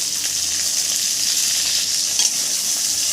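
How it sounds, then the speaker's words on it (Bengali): Pointed gourd (potol) frying in oil with salt and turmeric gives a dense, steady hiss of sizzling, close and loud throughout, with no voices. "এবার ভালো করে ভেজে নেব পটলগুলো।"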